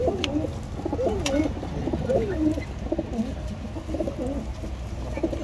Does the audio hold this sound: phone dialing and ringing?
no